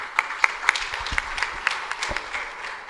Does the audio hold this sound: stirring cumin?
no